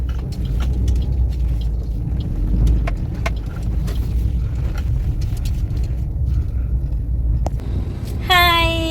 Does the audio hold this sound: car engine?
yes